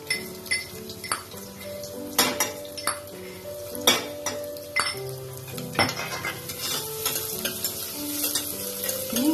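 Garlic frying in oil inside a pressure cooker, a soft sizzle punctuated by repeated metallic clinks and scrapes of a spoon against the pot, close and uneven in rhythm.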